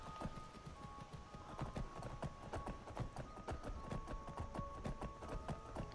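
Horse hooves galloping in Skyrim, a fast, steady clip-clop rhythm that runs without a break at a moderate distance over faint background ambience.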